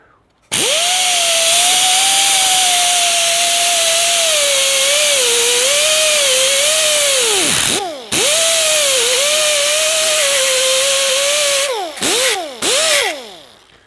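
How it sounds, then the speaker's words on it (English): A power grinder works the back edge of a metal part, a loud sustained whine whose pitch sags and wavers under load, briefly stopping and restarting, then cutting out in short bursts near the end. "When you grind from the back edge of it, it takes it down nice and brings it to that point."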